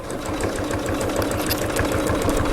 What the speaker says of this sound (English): I'm just going to do the straight stitch